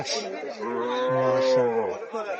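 A single long, low moo from a nearby Sahiwal dairy cow at a cattle market, rising and holding for about two seconds.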